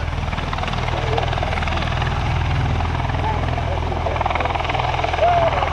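A Bell CV-22 Osprey tiltrotor flies at an airshow, its big rotors throwing out a loud, steady, rumbling drone that fills the whole stretch, with a faint announcer voice running beneath it.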